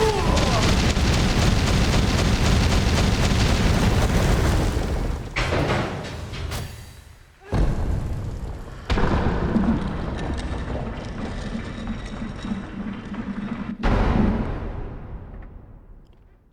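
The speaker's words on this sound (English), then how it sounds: "Imagine if that explosion had killed me." A loud, long rumbling explosion in Hollow Knight: Silksong fills the opening seconds, then breaks into heavy thuds and crashing bursts before tailing off.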